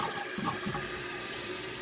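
Toilet flushing just after its flapper has been replaced, with a steady rush of water draining and refilling at close range, continuous and moderately loud throughout with no talking.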